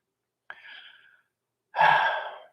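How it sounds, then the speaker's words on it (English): A person yawning twice: a short breathy yawn, a pause, then a longer, louder open-mouthed yawn, close and alone. "I keep yawning in front of the camera."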